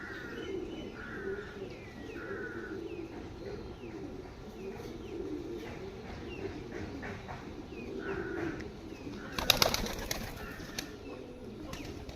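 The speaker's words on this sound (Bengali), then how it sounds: "সব কবুতরই তো চলে যাচ্ছে না বাসায়" Pigeons coo in repeated soft, low phrases at close range as they return to their loft, with faint scuffling and a brief clattering burst near the end.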